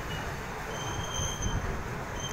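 A train passes with a steady rolling rumble and a faint high wheel squeal, moderately distant and without voices.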